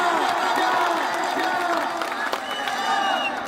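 A crowd at an outdoor political rally claps and cheers steadily and loudly at a speaker's request, a dense wash of applause with voices mixed in.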